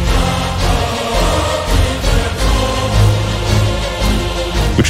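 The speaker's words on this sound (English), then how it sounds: "if you add the epic choir on top, it just becomes..." A full, loud orchestral passage from the Final Fantasy XVI soundtrack, with pulsing strings, low percussion and an epic choir, swells into a broad, powerful wall of sound.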